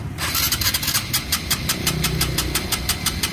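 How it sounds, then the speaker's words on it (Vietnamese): A Honda Future 125 motorcycle engine cranks and sputters with a rapid, regular chugging pulse, loud and close, with no talking. "Rồi giờ nổ máy cho lên nhớt nha"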